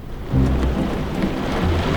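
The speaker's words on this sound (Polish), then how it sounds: "Zaraz wyłączę ten deszcz." Heavy rain pours steadily while deep thunder rumbles loudly and close, swelling in low rolling waves over the constant hiss of falling water.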